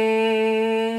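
A voice imitates a buzzing bee for Bhramari pranayama breathing, a steady sustained hum held evenly and close without a break for the full second.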